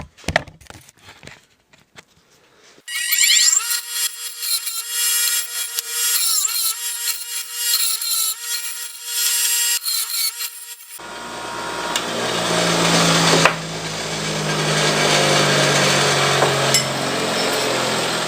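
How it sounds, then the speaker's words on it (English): Power wire wheel deburring the freshly cut ends of metal stock for a homemade welding table. After a few quiet clicks, a loud whining buzz sets in and then shifts to a harsher, broad grinding roar. "I'm just going to clean up the ends of these because I just cut them"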